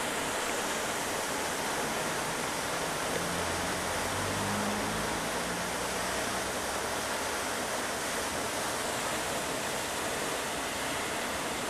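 Water pours over the Prettyboy Reservoir dam into the Gunpowder River in a constant, broad rushing roar. It is loud and unbroken, with no voices.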